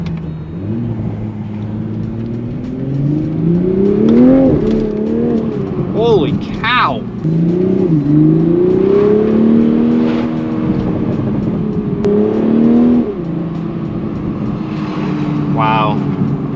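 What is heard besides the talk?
MK5 Toyota Supra accelerating hard, loud stock exhaust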